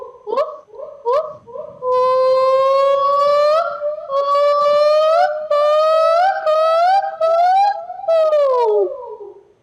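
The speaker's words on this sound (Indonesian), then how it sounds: "jadi suara owa Jawa ini menariknya adalah betina. Betina adalah individu yang punya suara lebih nyaring dibandingkan jantan" A female Javan gibbon calling, loud rising whoops that run together into long, sliding, bubbling hoots, heard up close and alone.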